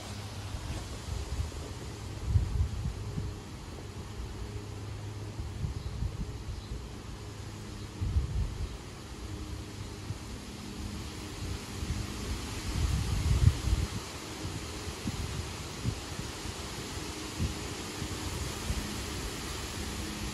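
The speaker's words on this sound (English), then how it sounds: "Look how windy it is." Gusty wind buffets the microphone in low rumbling bursts, rising and falling over a steady background hiss, with no one speaking.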